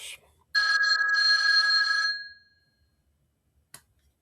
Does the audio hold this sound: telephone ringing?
yes